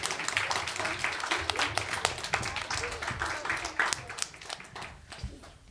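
Scattered hand clapping from a small audience, uneven and close, running several seconds with a few louder individual claps near the end.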